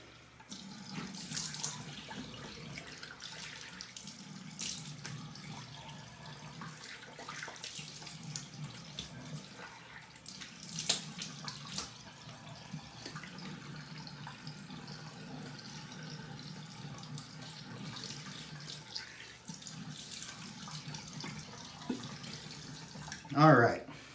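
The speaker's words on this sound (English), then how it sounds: "Now I'm just gonna rinse my face off." Tap water runs steadily into a bathroom sink while a face is rinsed by hand, a soft continuous splashing stream close by with occasional louder splashes and a brief clatter near the end, under quiet talk.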